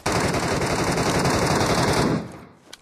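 A loud, sustained burst of automatic gunfire in the mobile shooter game PUBG Metro Royale, rapid and continuous for about two seconds before cutting off abruptly.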